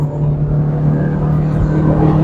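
Fifth-generation Camaro engine revving hard under acceleration, a loud, strong steady growl heard close from the cabin for a short burst.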